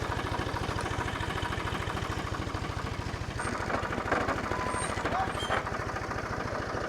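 A farm tractor pulling fence wire taut chugs with a fast, even, low engine throb that runs continuously at moderate distance, with faint background activity layered over it.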